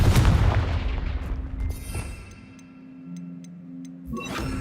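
Confringo blasting spell in the Hogwarts Legacy video game: a loud booming explosion hits at the start and decays, followed by faint ticking game effects and a second burst near the end.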